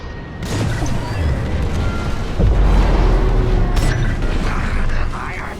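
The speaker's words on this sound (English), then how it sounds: "Drop your bombs, 5." Bombs bursting in the Star Wars Squadrons space combat game: deep rumbling blasts swell from about two and a half seconds and roll on loudly, layered with whooshing fly-bys and a sharp burst near four seconds.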